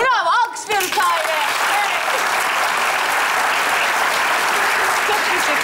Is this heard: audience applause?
yes